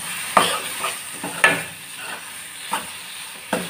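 Spice masala with cardamom powder roasts in a dry pan with no water, a soft steady sizzle broken by a few sharp scrapes and knocks of a stirring spoon.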